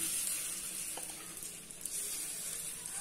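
Leftover roti batter sizzles in a pan over a low flame, a steady, soft frying hiss that runs unbroken throughout, with no voices.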